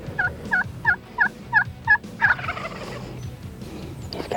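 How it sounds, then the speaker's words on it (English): A Rio Grande wild turkey gobbler gobbles in a rapid run of about seven sharp, rattling notes, fairly clear and close in an open outdoor setting, then trailing off into quiet background. "gobbler responds and starts coming to the louder calls"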